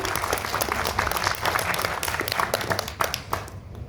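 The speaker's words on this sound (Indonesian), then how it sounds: "Kita beri tepuk tangan dulu untuk tim" An audience applauds a team during a judged competition session. The clapping is continuous and crowded, with sharper individual claps popping out and a slight thinning toward the end.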